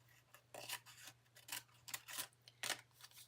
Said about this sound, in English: I'm going to cut with my scissors underneath the frame.